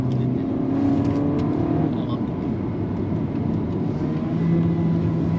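A Honda Civic takes a curve on a test drive, heard from inside the car as a steady engine and road drone with a rising whine, while people talk over it.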